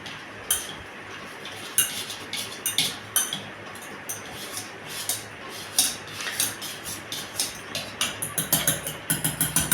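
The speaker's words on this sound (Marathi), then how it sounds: "आता आपण हे यांनी मिक्स करून घेऊ रवीच्या साहाय्याने।" Shrikhand being mixed with a wooden churner (ravi) in a bowl, producing repeated clinking, knocking strokes that come in uneven bursts and quicken toward the end, close and fairly loud.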